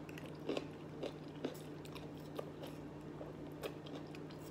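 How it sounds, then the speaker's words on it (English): Quiet close-up chewing of spicy garlic shrimp and rice, with soft regular bites and squishy crunches recurring about every half second over a steady low hum, no talking. "I'll be eating like a chipmunk."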